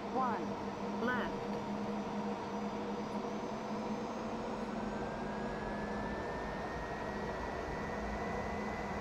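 Steady jet engine roar from a Bombardier Global Express business jet on runway 01 left, a continuous loud drone with a slowly rising whine, a few voices briefly audible early on.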